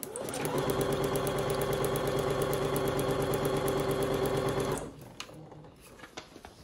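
A domestic sewing machine stitches fabric in a steady, loud, rapid mechanical rhythm for about five seconds, then stops abruptly, leaving quiet handling noises.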